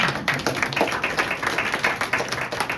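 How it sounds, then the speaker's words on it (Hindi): Loud, rapid applause from a church congregation during a Sunday service, many hands clapping in a dense, steady patter for a few seconds with no talking over it. "लड़कों के लिए एक जोरदार ताली हो जाए।"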